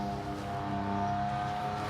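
A semi truck passing by outdoors gives a steady, low rumbling drone with a faint engine hum that holds evenly throughout, moderately loud with no talking.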